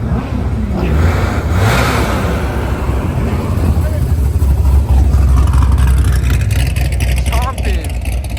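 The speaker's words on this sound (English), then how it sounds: "Beautiful Ferrari sliding through." A Ferrari slides past at an exotic car meet with a loud, continuous engine roar that swells and stays close throughout. Voices murmur underneath.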